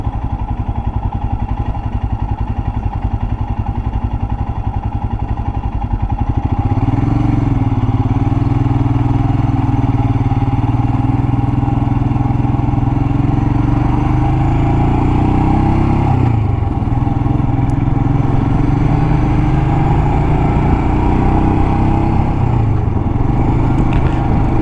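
A motorcycle being ridden on a windy day, its engine a loud, constant throbbing drone with wind buffeting, revs climbing and dropping through several gear changes as it accelerates, heard close from the rider's position.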